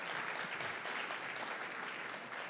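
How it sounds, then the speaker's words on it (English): Audience applause at a Spokane candidates forum on climate change, a steady broadband clapping wash lasting a few seconds at moderate, fairly distant level with no talk over it. "Yes, that deserves some applause"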